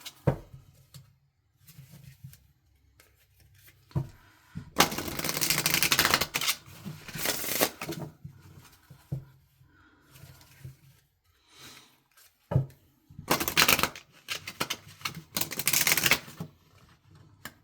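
Crisp riffling bursts of a tarot card deck being shuffled, two main flurries with quieter clicking and handling between them, fairly close.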